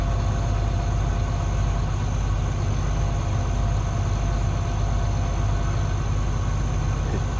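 Tractor engine drones steadily while pulling another tractor on a farm, a constant low rumbling idle-like throb with no talking.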